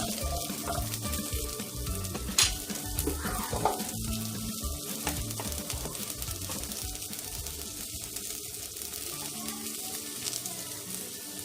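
Beetroot frying in a pan, cooked only partway for a coconut pickle, gives a steady, dense, watery hiss that runs close and even for the whole stretch, with no voices over it.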